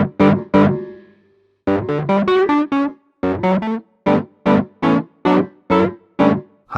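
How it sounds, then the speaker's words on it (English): A distorted Wurlitzer electric piano sample plays a chord, then a run of short, punchy staccato chords with a gritty, overdriven edge. No voices. "Distortion."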